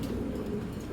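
Big pigeons, racers and youngsters kept for sale, give a low, steady murmur of cooing close by, with no talk over it.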